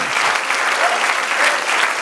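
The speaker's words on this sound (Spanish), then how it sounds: "Apláudele, eso lo aplaudo." Sustained applause rolls through a church congregation, a thick continuous patter of many hands at a steady level, with faint scattered voices inside the crowd noise.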